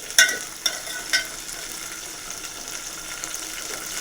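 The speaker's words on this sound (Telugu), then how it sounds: "మిర్చీలు మంచిగా వేగాలి. మంచిగా వేస్తేనే బాగుంటుంది టేస్ట్. ఒకసారి కలుపుకోవాలి." Green chillies fry in a pan with a soft, steady sizzle, broken near the start by a few sharp clinks of a spoon stirring against the pan.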